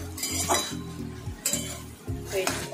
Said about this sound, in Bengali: তো আমি এটা দিয়ে শাক ভাজবো।